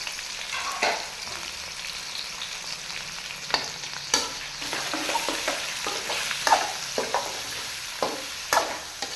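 Chicken frying in a pan with onions and green chillies, a steady sizzle broken by repeated scraping stirs from a spatula, close and fairly loud with no talk.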